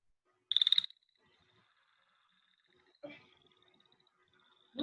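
An American toad calls in a trill, first a loud, close burst of about half a second, then a fainter, longer trill that follows. Brief noises and voices interrupt later on.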